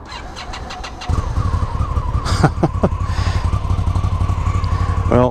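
A 2016 Victory Octane motorcycle's engine cranks and fires up after about a second, then settles into a loud, close, rumbling idle with a brief blip of revs partway through.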